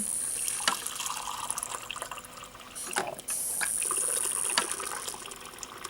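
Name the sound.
water being poured into a cooling vessel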